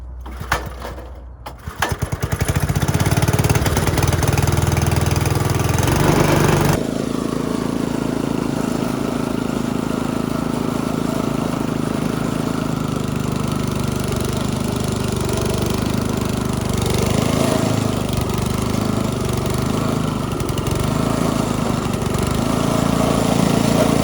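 A Cub Cadet 265 walk-behind snowblower engine running, a steady loud rough chug close by after a brief start-up, continuing alone at even speed throughout.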